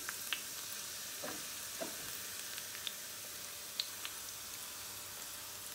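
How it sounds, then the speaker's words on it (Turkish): Chopped green onions tossed into a bowl of hot oil keep sizzling and frying, a soft, steady hiss dotted with small sharp crackles and pops, quiet and close with no talking. "yağın sıcağıyla hala yeşil soğanlarımız ne yapıyor? Pişmeye, kızarmaya devam ediyor."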